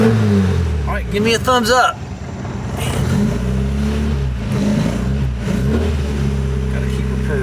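A car engine fitted with a Weber carburetor idles with a deep, steady rumble, with a brief revving flutter early on. Someone talks over it at close range.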